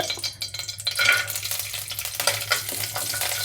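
Cashews and raisins fry in a small amount of ghee for semolina laddus, giving a continuous close sizzle broken up by irregular scraping and stirring clinks from a spoon against the pan.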